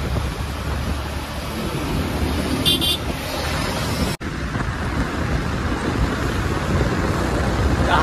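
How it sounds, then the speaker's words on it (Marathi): Slow-moving road traffic rumbles continuously with wind noise, and a short car horn toots nearby partway through. "गाड्या हळूहळू चालत आहेत."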